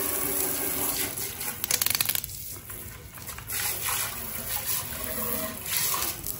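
Running tap water splashes and gushes over an aquarium item being rinsed in a sink, a loud, steady wash of water with brief surges and clatters, no voices.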